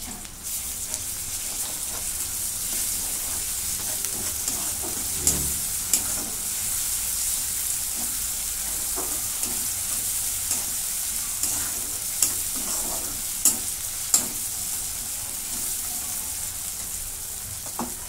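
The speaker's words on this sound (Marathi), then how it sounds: "कांदा चांगला भाजून घेते. कांदा भाजून घेतलेला आहे मग असा. आलं लसूणची पेस्ट टाकून घेते." Onion and ginger-garlic paste sizzling steadily in a pan for chole, a continuous loud frying hiss with occasional light stirring clicks, no voices.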